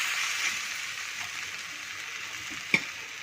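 Tomatoes and spices frying with onions in a hot pan give a steady close crackling sizzle, with one sharp clink of a utensil near the end and no talk.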